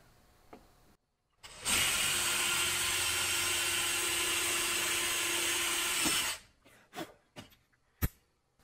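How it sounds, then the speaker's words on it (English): Power drill boring a hole through metal at a punched center mark for an oversized spoke: a steady, loud whine of about four and a half seconds, then a few brief handling clicks and a sharp knock. "I'll drill that."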